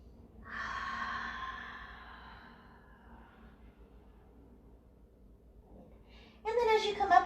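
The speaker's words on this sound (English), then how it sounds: "One more deep breath here." A long, audible exhale during a yoga stretch, a breathy whoosh that fades out slowly, followed by quiet, then a voice speaking near the end.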